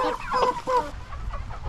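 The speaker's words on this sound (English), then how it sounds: "Hungry chickens?" A few three-month-old meat chickens cluck and squawk up close in short bursts, a brief noisy flurry of hen calls.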